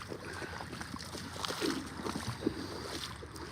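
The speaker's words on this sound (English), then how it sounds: "Ooh, that water's swifter than I thought." Swift stream water rushing steadily close by, a continuous broadband wash with small splashy bursts and no talk over it.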